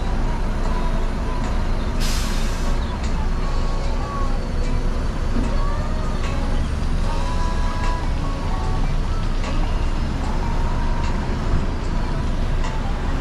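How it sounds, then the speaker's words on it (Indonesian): Busy highway rest area 57 with buses and trucks, a constant loud engine rumble and idling drone with a brief air brake hiss, no clear talk. "Beginilah kondisi rest area 57 teman-teman"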